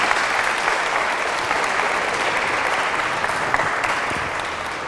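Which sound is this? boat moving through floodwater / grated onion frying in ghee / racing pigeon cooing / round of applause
round of applause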